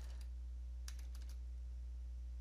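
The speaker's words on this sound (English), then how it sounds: "then you want to hit enter on your keyboard" A computer keyboard is tapped in a few short, faint clusters of keystrokes over a low steady electrical hum.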